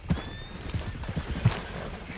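Horse hooves clip-clop in Red Dead Redemption 2, an uneven patter of soft thuds at walking pace over a steady rustling background, with no voices.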